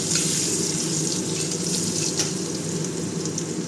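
Chopped garlic frying in hot oil with bay leaf, dried red chilli and five-spice, a steady close, loud crackling hiss that runs unbroken with no voices.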